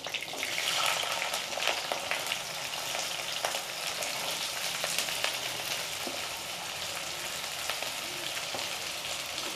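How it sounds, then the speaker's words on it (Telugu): Onions and whole spices (cloves, cinnamon, cardamom) frying in oil for Hyderabadi egg korma give a steady, close sizzle with scattered scraping taps of stirring, with no speech. "ఉల్లిగడ్డలు వేసుకొని మంచిగా కలిపేద్దాం."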